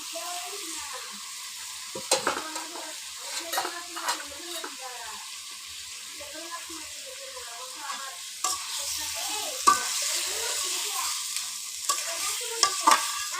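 Taro stolons fry in spiced oil with a constant close sizzle, broken by repeated scraping stirs of a spoon against the pan, no voices.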